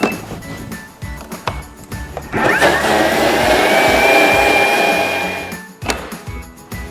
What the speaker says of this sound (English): And now we're going to add them all to the blender.